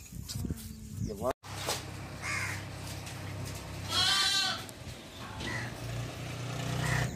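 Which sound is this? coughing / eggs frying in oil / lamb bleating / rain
lamb bleating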